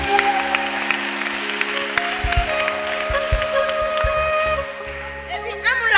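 Applause from a church congregation praising the Lord, steady clapping sustained throughout with a few sharper claps standing out, with voices mixed in.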